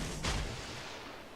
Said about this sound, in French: Là, il y a une torpille sur le Rion, je pense. Il va s'en prendre une.